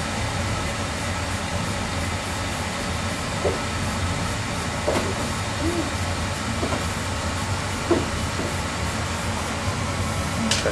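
Oil furnace burner running steadily after cleaning, a continuous broad roar with occasional faint ticks and crackles, close and even throughout, with no talk over it.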